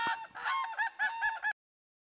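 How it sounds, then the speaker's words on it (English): A run of rapid, nasal honking bird calls, about six in quick succession, loud and close, then silence. "Crane."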